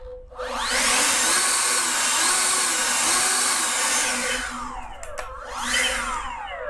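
An EGO cordless leaf blower roars at a high, steady whine, then its pitch winds down and spins back up in a quick surge, loud and close with no voice.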